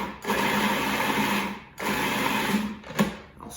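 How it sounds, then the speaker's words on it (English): Food processor pulsing cranberries in three bursts, a loud whirring chop that stops and restarts briefly between each, with a short final pulse at the end. "I'm going to turn the food processor on and give them a really good pulse."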